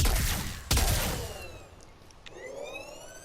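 Fulmin weapon in the shooter game Warframe: a heavy burst of firing that cuts off abruptly, then a faint, rising electric whine as the weapon charges back up, with no talking.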